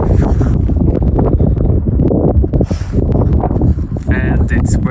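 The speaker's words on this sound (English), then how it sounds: "And it's very windy." Strong wind buffets a microphone at a snowy mountain viewpoint near Tbilisi, Georgia, a steady loud roar with gusts and rumbling bursts throughout, no speech over it.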